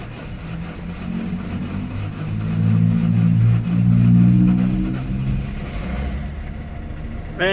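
A Peugeot Expert 1.6 HDI diesel van that has not run for months cranks and catches, its engine rising to a steady low running note before fading as it stalls, heard close and loud.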